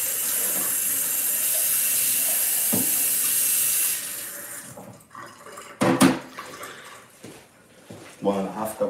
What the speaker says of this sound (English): We will have some water here too.